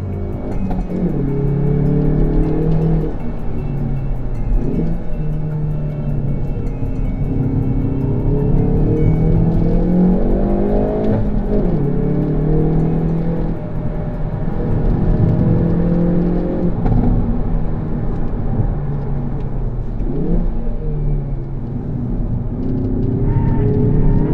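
A 2018 Hyundai i30 N Performance engine revs hard and repeatedly up to the rev limiter, with loud, steady rising and falling engine tones that continue throughout with no speech.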